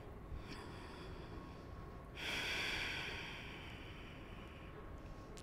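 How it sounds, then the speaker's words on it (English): Deep breathing during a yoga stretch: one slow, audible breath drawn and released through the nose, faint and close in an otherwise quiet room, without talk. "Take two deep breaths."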